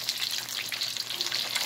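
Chicken frying in hot oil gives off a steady, loud, close sizzle with dense crackling that never lets up, and no voices are heard.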